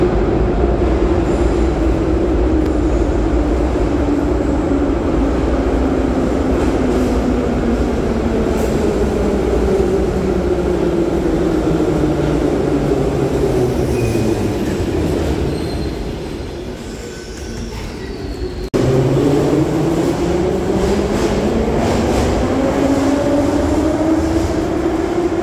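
Metro train running through a tunnel in Kharkiv, a loud steady rumble with squealing wheels and rising and falling pitch as it brakes and accelerates, filling the whole span with no talk.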